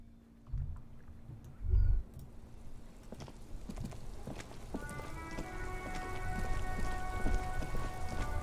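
Steady rain falls in the video game Disco Elysium, a soft constant patter with a few heavier thumps and distant rumbles, growing denser toward the end as tonal ambient hums rise underneath.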